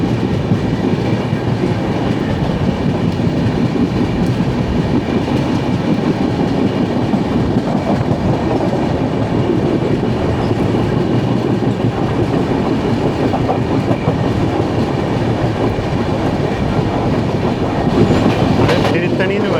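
The 12675 Kovai Express runs out of Arakkonam, heard from inside an AC chair car as it overtakes a MEMU bound for Kadapa: a steady, loud rolling rumble with faint wheel clatter throughout, with no talking.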